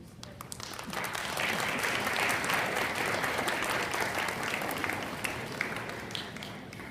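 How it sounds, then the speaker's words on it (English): A crowd of parents applauds at an eighth grade parent night, sustained clapping that swells and then tapers off over about seven seconds. "If I could have one more round of applause"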